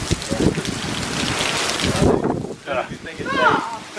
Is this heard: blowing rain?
yes